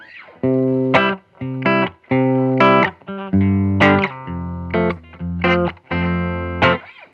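Electric guitar played dry with the room reverb and delay off, a run of distinct picked notes and short chords with abrupt gaps between phrases, sounding thin and close with no trailing echo.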